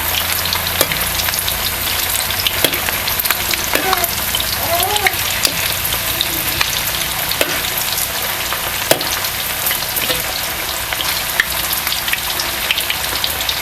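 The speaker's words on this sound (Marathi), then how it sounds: "हे सुद्धा आपल्याला चांगलंसं तळून घ्यायचं आहे" Poha cutlets fry in a pan of hot oil with a steady, close crackling sizzle that never lets up, scattered with sharper pops and a few brief faint tones in the background.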